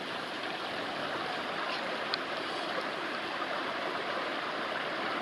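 A wilderness creek flows steadily on a hiking trail, a continuous broadband rush of water with no pauses, fairly close and with no voices over it.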